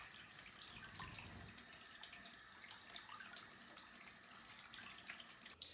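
Running water filling a bath, a steady hiss of water pouring from the tap into the tub, continuous and fairly faint, heard alone with no talking.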